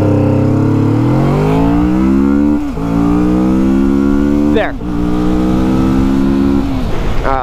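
A Kawasaki Vulcan S Cafe motorcycle makes a 0-60 run. The engine revs climb steeply through three gears, with clear pauses at the shifts. The sound is loud and close throughout, with no voices.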